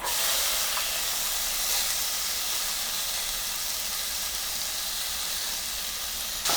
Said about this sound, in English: Let's add the cumin seeds. Let them sizzle.